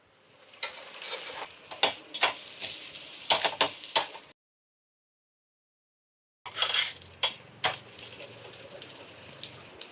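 Dosa batter sizzles on a hot pan in soft crackling bursts with clicking spatula or utensil taps, quiet and close, cutting out briefly before the frying sound returns.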